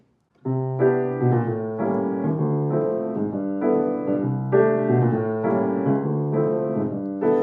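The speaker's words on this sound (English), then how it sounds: "That's the 1-6-2-5 intro." Solo piano plays a short 1-6-2-5 jazz chord progression intro, smooth and steady, with rich voiced chords moving through a turnaround, close and clear.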